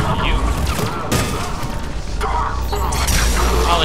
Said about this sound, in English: And a concussion shot for you.